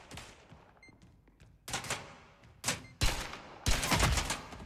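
Gunfire in the shooter game Spectre Divide: a few faint shots early, then several loud, sharp bursts of rapid fire in quick succession, the last ones heaviest and closest.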